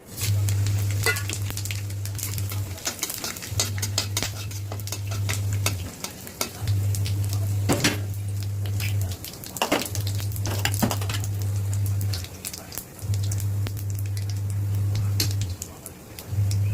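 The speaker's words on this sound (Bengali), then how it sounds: "ওই তেলের মধ্যে আমি ফোড়ন দিয়ে দেবো জিরে, তেজপাতা, লং, এলাচ, দারচিনি, 2টো শুকনো লঙ্কা" Whole cumin, bay leaf, cloves, cardamom, cinnamon and two dried chillies crackle and sizzle in hot oil in a pan for a rui fish dish, with spoon stirring scrapes and clinks over a steady low hum that cuts in and out.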